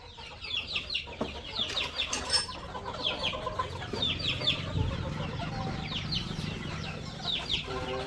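Several hens cluck steadily close by in a farmyard near their first small freshly laid eggs, with repeated short calls overlapping across the whole stretch.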